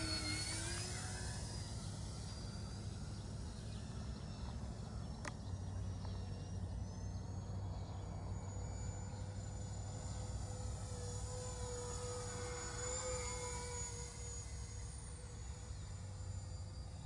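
Continuous electric whine of an E-flite DHC-6 Twin Otter 1.4m RC model plane in flight, its motor tones gliding up and down as it passes at a distance, over steady wind and rumble.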